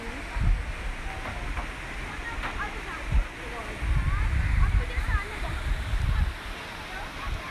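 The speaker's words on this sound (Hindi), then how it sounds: "और वहाँ पे संग्रीला वाटरफॉल हम आए।" Constant rushing water from the Shangrila waterfall near Islamabad fills the background, with people talking nearby and a few louder bumps over the flow.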